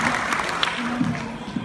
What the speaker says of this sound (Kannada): ನಿಮಗೆ ಜೋರಾದ ಚಪ್ಪಾಳೆ